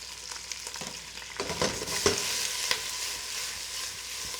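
Plum tomatoes with a pinch of salt being stirred in a hot pan, a steady sizzle broken by a few louder scraping strokes of the spoon, close and alone with no talk.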